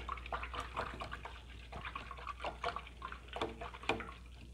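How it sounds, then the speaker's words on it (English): An acrylic paintbrush is swished and rinsed in a container of water, producing soft, irregular sloshes and trickling splashes in quick bursts, close and fairly quiet. "I'm gonna rinse my brush out first"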